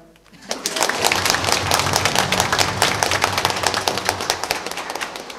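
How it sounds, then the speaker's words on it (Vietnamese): Congregation at a Vietnamese Catholic parish Mass applauding their parish priest, a dense, loud burst of many hands clapping that swells quickly and holds steady to the end, with a faint murmur of voices beneath. "Một tràng vỗ tay thật lớn để chúc mừng cha xứ của anh chị em."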